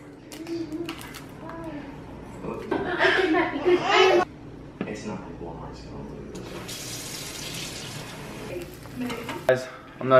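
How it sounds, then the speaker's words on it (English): Eggs fry in a small pan while a spatula flips them, giving bursts of sizzling and scraping that rise and fall under a person talking. "I'm gonna flip some eggs."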